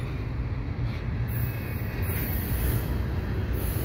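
A CPKC eastbound intermodal freight train passes at Dorval with a continuous heavy rumble and rolling rail noise, plus faint high squeals from the wheels, steady and fairly loud throughout.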